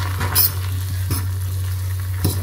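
Noodles with cheese are stirred in a pan over a low steady hum, with a few brief scraping strokes of the utensil against the pan.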